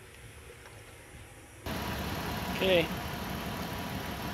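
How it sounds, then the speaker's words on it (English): A 2014 Toyota 4Runner engine idles after a radiator coolant change, a steady low running noise that starts abruptly partway through and holds evenly, with one short spoken word over it. "car's running"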